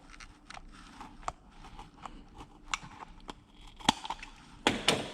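Silicone intercooler hose is cut on an MX5 turbo high-mount intercooler setup. A series of close, crisp snips and crunching cuts builds to louder bites near the end, with no talk.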